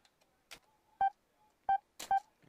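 Three short, clear electronic beep tones of the save-game effect in the video game Mad Father, spaced irregularly and close, with faint rustling and soft sounds between them and no speech.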